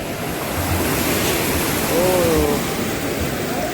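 A constant roar of rushing water from the flooding Ambika River fills the scene, broad and steady, with a voice briefly audible over it.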